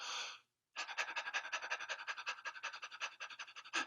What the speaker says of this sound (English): So 5 seconds of panting, 5 seconds of meowing.